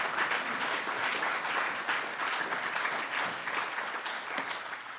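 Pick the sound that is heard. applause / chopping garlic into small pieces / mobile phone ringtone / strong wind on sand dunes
applause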